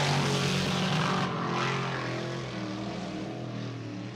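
A modified race car at New Egypt Speedway roars loudly, then the engine note drops off about a second in as the driver lifts off the throttle, continuing at a lower, fading drone.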